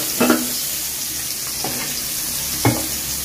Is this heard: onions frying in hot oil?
yes